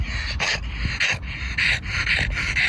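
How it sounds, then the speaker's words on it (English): A dog pants and snorts close by in a rapid, uneven rhythm of breathy huffs, with short gasping catches between them and no talking. "Sorry about my dog doing that stuff."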